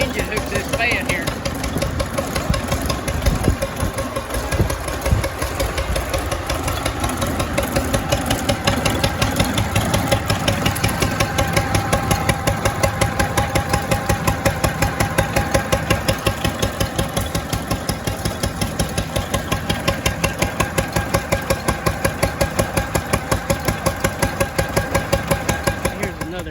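An old engine runs steadily at a threshers reunion, hooked up to drive a fan, with a regular rapid chugging beat throughout and faint voices in the background.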